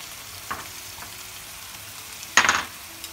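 Spiced filling for eggplant moussaka stirred in a frying pan, a low steady sizzle with a couple of soft scrapes and one louder scraping stir near the end, close by.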